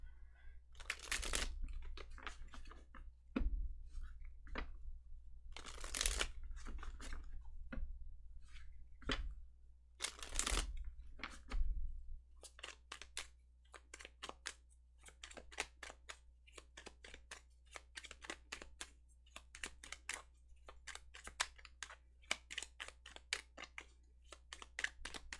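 Repeated soft riffling and slapping of tarot cards being shuffled, in irregular bursts, close up and fairly quiet, with no talking.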